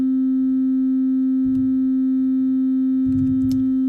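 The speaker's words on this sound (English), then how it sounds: "So right now we're looking at a sine wave here." A steady, pure electronic sine tone hums continuously at constant pitch and loudness, with faint low rumbles and a brief click beneath it.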